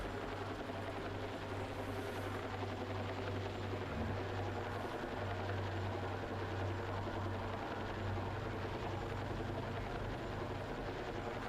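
A helicopter flown in the video game Battlefield gives a loud, steady rotor and engine drone that holds unbroken for the whole stretch, with no voices over it.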